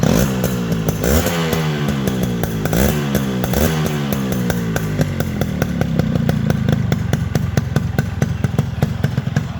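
A Yamaha RX 100 motorcycle, the last model sold in Bangladesh, revs hard up close, its two-stroke engine rising and falling in repeated pitch sweeps before settling into a loud, steady, rapid buzz, with no voices.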